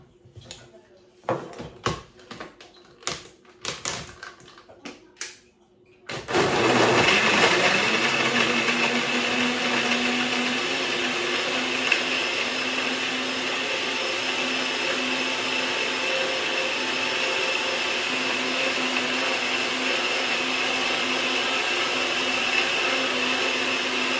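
A mixed fruit milkshake with skimmed milk whirs in an electric blender. A few sharp taps and clicks come first, then the motor kicks in as a loud, steady drone that runs unbroken to the end.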